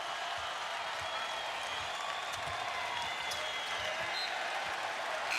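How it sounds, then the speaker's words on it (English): Basketball arena crowd at a Memphis Tigers versus East Carolina Pirates college game, a steady wash of applause and cheering that stays broad and even throughout, with scattered claps standing out from the roar. "The fans respond a bit."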